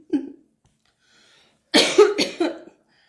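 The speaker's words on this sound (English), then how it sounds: "coughing here" A short cough, a pause of near silence, then a harsher burst of several coughs in quick succession, close to the listener.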